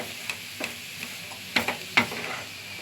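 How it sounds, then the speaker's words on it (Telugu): Bitter gourd fry is stirred in a pan, a soft sizzle under a handful of sharp scraping clinks from the spatula, irregular and close, the last few louder, with no talking. "ఇలా అంతా కలిసిపోయేలాగా కలపాలి కాకరకాయ ఫ్రై రెడీ అయింది"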